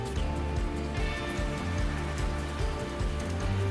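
Rain falls steadily on the Camino del Norte pilgrimage route, a dense close patter and hiss with no voices, heard over a low rumbling background throughout.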